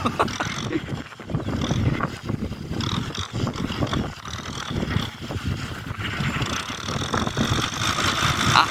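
A Mahindra M6040 tractor dry plowing a dusty field on its first pass, a steady loud engine drone with wind noise throughout and no talk.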